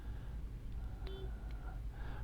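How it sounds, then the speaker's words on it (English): Faint electronic beeps from a truck in American Truck Simulator sound in a few short tones over a low steady engine rumble. "Oh, there we go. The beeping begins."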